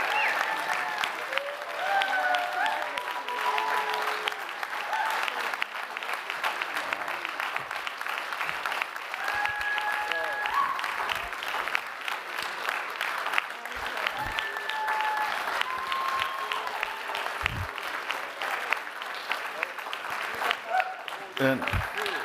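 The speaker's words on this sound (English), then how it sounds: "let's give up and give him a standing big, big applause" A community meeting crowd gives a long standing ovation, dense sustained clapping from many people in a hall, with scattered cheers and voices mixed in throughout.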